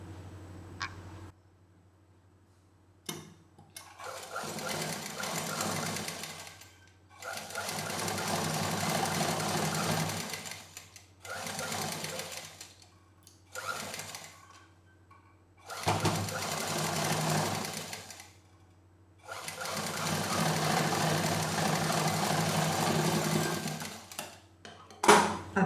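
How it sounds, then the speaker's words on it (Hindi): A sewing machine stitches patchwork fabric pieces in several bursts of rapid, close whirring, separated by short quiet pauses. "अब इसको मिलाते हुए सिल देंगे।"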